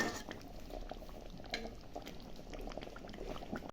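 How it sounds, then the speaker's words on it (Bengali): Curry gravy for potato curry with paneer bubbles in a pot, a close, steady low burble of boiling liquid with soft pops and no talking. "ঝোলটা এখন ফুটুক"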